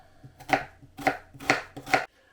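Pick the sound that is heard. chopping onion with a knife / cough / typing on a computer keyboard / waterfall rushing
chopping onion with a knife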